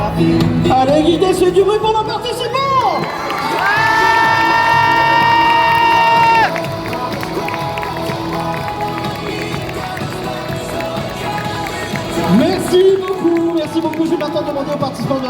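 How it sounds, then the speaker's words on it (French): Crowd at a cosplay contest on stage at Geek Days Lille, cheering, shouting and making noise for the participants, a loud, steady roar of voices and whoops throughout, with a sustained musical tone midway. "on applaudit bien fort les participants du concours cosplay"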